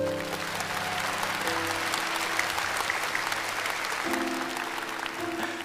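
Steady audience applause in a television comedy show studio fills the space, a dense even wash of many hands clapping while a low sustained musical tone plays underneath.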